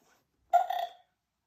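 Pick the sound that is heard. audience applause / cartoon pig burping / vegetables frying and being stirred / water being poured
cartoon pig burping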